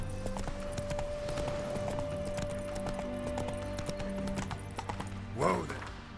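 Hoof clip-clop from Roach, the horse in The Witcher 3, thudding steadily beneath sustained game music, with a short horse snort or whinny rising near the end.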